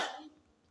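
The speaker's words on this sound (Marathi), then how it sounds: "थोडा खोकला आहे मला" A single short cough from a woman, close and fairly loud, with a quick burst that fades within a fraction of a second.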